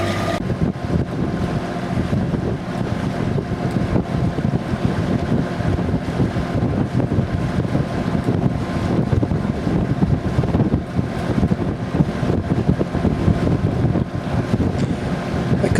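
Wind buffeting a sailing boat beating up the Sound of Mull, a steady loud roar and rumble of gusts against the microphone with water noise beneath, no voices.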